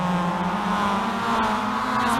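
Several Mazda MX-5 race cars in the iRacing sim launch together at a race start at Laguna Seca, a steady droning engine roar holding one buzzing pitch, loud and continuous.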